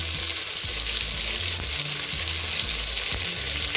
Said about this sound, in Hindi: अबे बघार में डालना कोथमीर